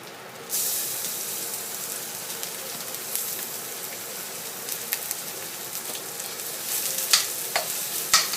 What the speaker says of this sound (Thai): จะสิใส่กระเทียมลงไปนะคะ เริ่มแตกปกเป๊ะปกเป๊ะนะคะ